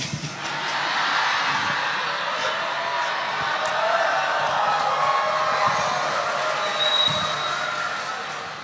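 Dense, sustained applause and crowd noise from an audience at a public religious gathering, a broad wash of clapping holding steady for several seconds before easing at the end.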